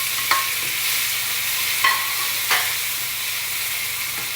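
Onion, tomato and chili sautéing in a pan for squid adobo, a steady soft sizzle with a few sharp scrapes and stirs of a utensil, no voices.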